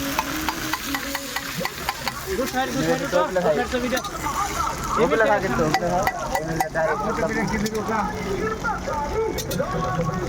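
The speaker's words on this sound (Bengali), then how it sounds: "হ্যাঁ, এখন আমাদের এখানে খিচুড়ি রান্না করা হচ্ছে।" Khichdi cooking in a pot and being stirred, with a steady scraping and sizzling bubble running under people talking nearby throughout.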